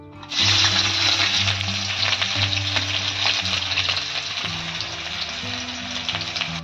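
Onions frying in oil in a home village kitchen, a loud steady sizzle with crackling that starts abruptly and continues throughout, with background music or tones underneath and no speech.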